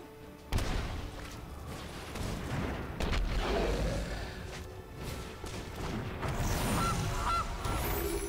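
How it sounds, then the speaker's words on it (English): Goose honking as a game sound effect in MTG Arena, a few honks sounding over busy game audio and music, moderately loud throughout. "And the goose."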